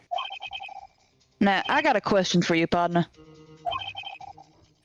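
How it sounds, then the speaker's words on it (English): A phone ringtone in the video game Ace Attorney: Rise from the Ashes, a bright, electronic ringing with rapid repeated trills that plays before and after a stretch of someone talking over it. "I heard a phone ring just now."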